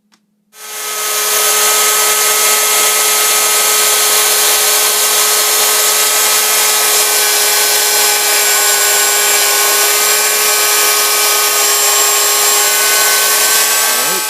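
A drill press cutting slots in wood whines steadily and loudly for a long stretch after a brief start, its pitch nearly constant throughout.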